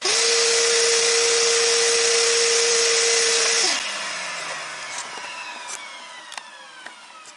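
A FEIDER air filtration system runs with strong suction, a loud steady whine and rushing air for several seconds before it switches off and spins down, leaving faint clicks.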